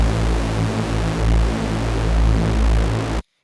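Zebra2 software synth tone whose filter cutoff is frequency-modulated by the second oscillator, giving a dense, buzzing, steady drone with a rough, wobbling texture that holds loud for about three seconds and then cuts off abruptly.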